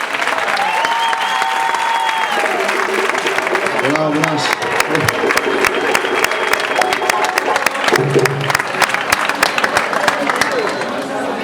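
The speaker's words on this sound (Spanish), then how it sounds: "quiero que le deis un fortísimo aplauso para él" A crowd at an LGBTI pride festival in Murchante applauds loudly, and the close, crisp clapping swells into a sustained burst that runs to the end. A tonal sound and brief talk come before it, and murmured voices run underneath.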